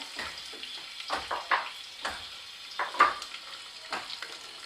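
Whole spices for a Madurai-style fish curry fry in hot oil in a pan, giving a soft crackling sizzle broken by repeated stirring scrapes, close by with no talk.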